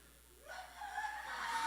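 A person mimics a rooster's crow, a rising drawn-out call that swells and holds, heard in a large room and fairly faint.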